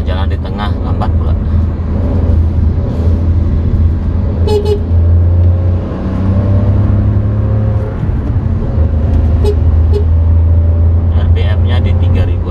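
A Daihatsu Rocky with a 1000cc three-cylinder turbo engine drives on a road during a top-speed test, its low engine drone steady inside the cabin, with voices and a brief horn-like tone over it.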